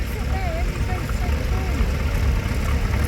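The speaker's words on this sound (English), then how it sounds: "This is an International and driven today by Avery Wadsley. And this tractor was originally fitted with a petrol engine" An International tractor, originally fitted with a petrol engine, runs steadily in a tractor parade at a county show, its low rumble mixed with outdoor crowd noise and faint voices.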